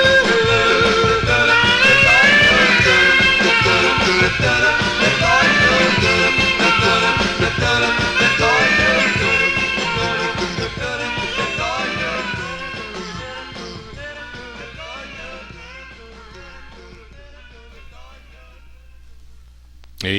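A 1950s doo-wop 45 on vinyl plays as layered vocal harmonies over a bass voice and backing, loud and steady before gradually fading toward the end.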